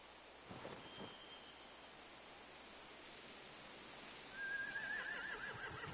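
A horse whinnies in The Walking Dead video game, a faint wavering neigh rising late over a steady background wash of wind or rain noise.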